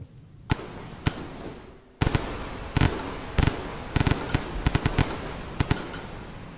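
A minigun in the video game Rain World fires in irregular bursts of sharp cracking shots over a dense rumbling wash, loud and close, with a brief pause before the barrage resumes.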